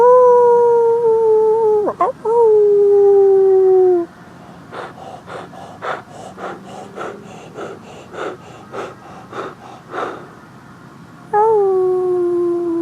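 A dog gives long, sustained howls that slide downward in pitch at the start and again at the end. Between them comes a quieter run of rhythmic, breathy snorts and pants.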